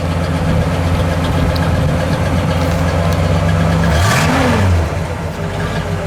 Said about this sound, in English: there it goes, come right off fast idle